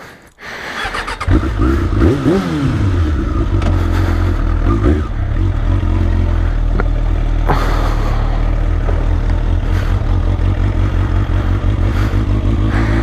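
A 1998 Suzuki Bandit 600N motorcycle engine starts with a brief clatter, revs up, then settles into a loud, steady running note close by, with no talking.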